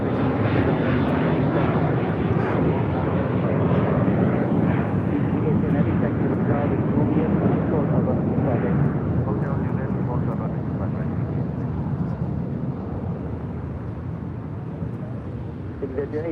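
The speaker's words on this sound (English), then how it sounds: "Japan Airlines Flight 61 heading back to Tokyo Narita in the 787-8 Dreamliner, making that turn onto Bravo" A Japan Airlines 787-8 Dreamliner taxis at LAX, turning onto a taxiway, a steady broadband jet roar sustained throughout, with radio chatter and a commentator talking over it.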